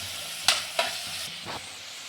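Tomato and onion frying together for a prawn gravy give off a soft sizzle, punctuated by two sharp spatula scrapes and a fainter third stir within a couple of seconds.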